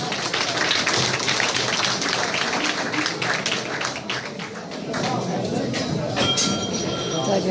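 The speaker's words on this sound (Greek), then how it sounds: "Ένα χειροκρότημα παρακαλώ." Audience applause at a Cretan association gathering in Düsseldorf, steady dense clapping filling the room for several seconds with voices mixed in.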